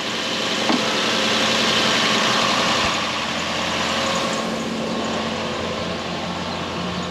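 A white 2013 Toyota Hilux fitted with a 3UZ V8 engine runs steadily throughout, a loud, continuous broadband rumble with a low vibrating drone and no talking.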